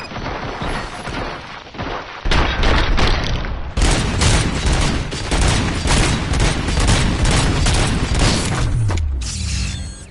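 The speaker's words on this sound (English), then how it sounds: "Fire at will." Sustained volleys of gunfire in RoboCop: Rogue City, loud and dense rapid bursts layered with mechanical clatter and booms, running almost nonstop before easing into a lower rumble at the end.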